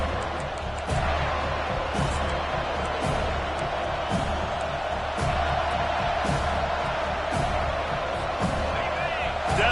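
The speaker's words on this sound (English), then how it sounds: "Decibels rising as the crowd gets behind this defense on third down." A stadium crowd in an NCAA football video game roars steadily at a distance on third down, with a faint, sustained cheering wash under a commentator's voice.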